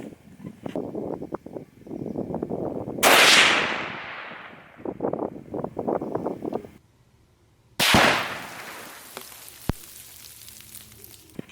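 A rifle fires 125 grain TNT bullets at a steel target outdoors: two loud, sharp reports several seconds apart, each with a long fading echo, with quieter rustling and handling noise between them.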